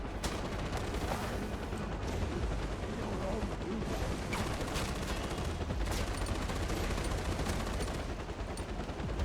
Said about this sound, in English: This wood will protect me from a 50 cal gun.